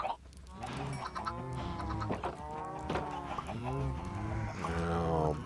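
Chickens clucking in Minecraft, several bursts of clucks one after another with a nearby voice talking over them.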